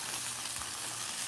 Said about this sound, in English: let it sizzle a little bit